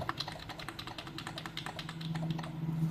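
Computer keyboard keys tapped in a quick, uneven run of light clicks, close and clear, with a low steady hum underneath and no voices.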